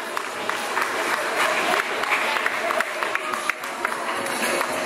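Steady applause from an audience at a school event during a family cycling rally, many hands clapping continuously at moderate distance, with a faint crowd murmur beneath.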